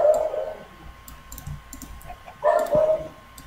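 Dogs barking in the Minecraft video game: two bursts of repeated barks, one at the start and another near the end, separated by quieter clicking and game noise.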